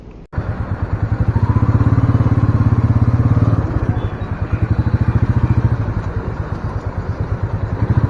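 A Royal Enfield Meteor 350 Supernova motorcycle starts up and settles into a loud, steady single-cylinder thump close by, the rhythmic beat swelling briefly before easing back to a lumpy idle as a test ride begins.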